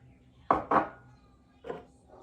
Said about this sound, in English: I'm gonna chop garlic.